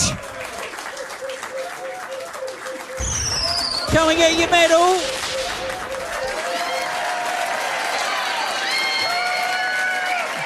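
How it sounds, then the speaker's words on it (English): A crowd at a pub trivia quiz night at The Yard applauds and cheers the winning team, swelling partway through over background music while the host speaks. "Give them a round of applause."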